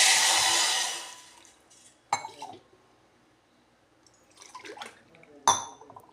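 Water pours into a glass with a short splashing rush, followed by a couple of sharp clinks of glassware, close up and without talk.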